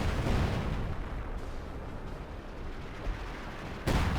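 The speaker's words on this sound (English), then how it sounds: "That is a legitimate rapid barrage getting called in on top of the Obersoldaten" A Company of Heroes 2 rapid artillery barrage striking a winter battlefield at Rzhev, a dense roll of overlapping booms and rumbling impacts that sustains, then ends on a sharp fresh blast, with no talk.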